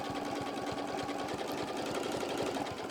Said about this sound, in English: I'm going to stitch all the way up to where I get to the edge of my, right to my binding